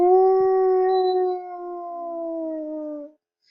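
A person imitates a howl with a long, steady, wavering tone that holds for about three seconds, then stops abruptly into silence.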